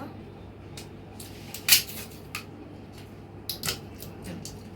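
Someone handles a glass measuring cup and its lid, giving a few sharp glassy clinks and knocks against a quiet room background, near and brief, with no voices.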